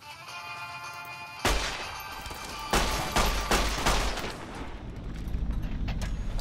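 Gunfire in Fallout New Vegas: a sharp shot cracks out, then a rapid burst of several close, loud gunshots follows before settling into a rumbling tail.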